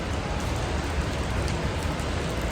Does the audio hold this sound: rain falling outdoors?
yes